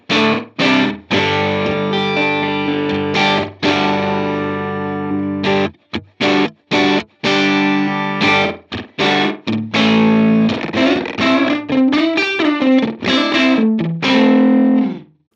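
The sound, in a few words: Line 6 Helix reverb effect on guitar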